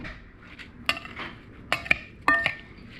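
A utensil stirs a salad dressed with lemon and olive oil in a bowl, giving a few sharp clinks and scrapes against the dish between quiet moments. It sounds close and fairly soft, with no talk.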